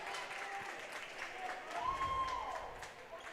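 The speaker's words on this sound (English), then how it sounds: "Cohen Morrow and Riker Lind coming in for Kai Barker and Clayton Cook as they get a round of applause" Crowd at a high school boys basketball game applauds as substitutes check in, moderate steady clapping in a gym with a sneaker squeak and a commentator's voice mixed in.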